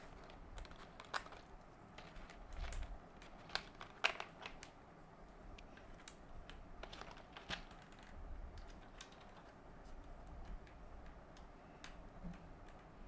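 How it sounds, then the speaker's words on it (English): Keycaps are pressed onto an MW75 R1 polycarbonate gasket-mount mechanical keyboard, giving faint, scattered plastic clicks and snaps at an uneven pace in a quiet room. "we're installing keycap black on white"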